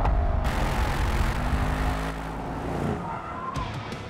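Mercedes-AMG E63 S, a two-ton sedan fitted with carbon ceramic brakes, braking hard on a racetrack: loud, close engine roar and road noise, with a faint tire squeal as the car slows and the rear squirms.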